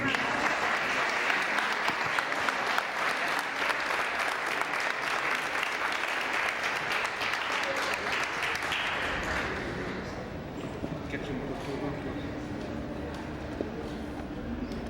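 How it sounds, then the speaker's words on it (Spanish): A lecture audience in Cuernavaca applauds to welcome the speaker, dense sustained clapping for about nine seconds that then fades into scattered claps and low murmuring voices. "Les pido un aplauso para recibirlo."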